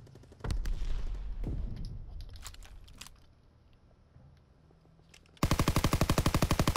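Video game gunfire in a tactical shooter match: scattered single shots and bursts near and far, then a loud rapid automatic burst at the end, without talk.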